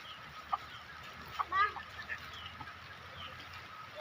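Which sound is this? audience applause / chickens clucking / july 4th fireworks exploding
chickens clucking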